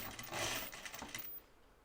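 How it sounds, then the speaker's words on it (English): A sewing machine runs briefly and faintly as it sews a half-inch seam on a garment yoke, giving a quick rattling stitch burst that stops after about a second. "line up your center notch to the center of your pleat and sew your half-inch seam, keeping all these edges lined up"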